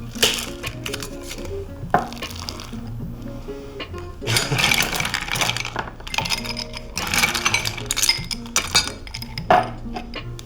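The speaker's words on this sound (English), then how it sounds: "Gonna give this a nice good hard shake now." A heavy cocktail shaker tin shaken hard, ice rattling and clinking in rhythmic bursts with brief pauses between, loud and close.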